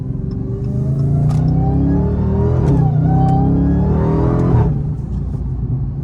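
A stock SRT Hellcat with a custom intake accelerates hard, its loud, close engine revving up through rising pitch. Sharp exhaust pops crackle over the climb, then the note drops off near the end.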